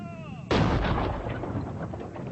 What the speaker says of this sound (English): British artillery pounded Boer positions in the hills around the besieged towns